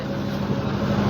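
Boat engine droning steadily across open haor waters in Sylhet, a continuous low hum with a faint tonal whine, close and constant for a short stretch with no talk.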